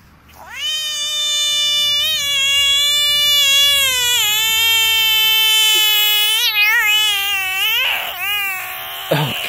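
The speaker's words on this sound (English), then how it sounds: "This frog was crying." A large frog making a long, loud, wailing cry with a sustained pitch that bends and wavers, closely resembling a screaming cat or crying infant, lasting several seconds before breaking off in shorter squeals.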